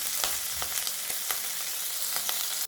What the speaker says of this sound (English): add half tablespoon of ginger garlic paste. Fry that.